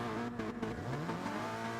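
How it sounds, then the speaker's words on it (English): Race cars rev at the start of a multiclass league race at Willow Springs, engines droning and then climbing in pitch as they pull away, loud and close, with no talk. "Revs are up now then."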